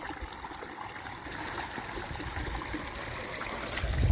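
Rainwater draining out of a flooded farm field after heavy rain, a steady nearby trickling and gurgling flow that rises slightly toward the end, with no talking.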